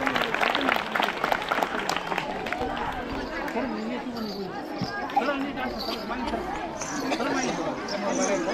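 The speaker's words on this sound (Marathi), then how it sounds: "त्याबद्दल त्यांच्यासाठी सुद्धा एकदा जोरदार टाळ्या वाजवायच्या।" Loud applause for a helper at a school tribal pride day event with Bohada folk dance at an ashram school in Dhamangaon, clapping fading into crowd chatter and children's voices.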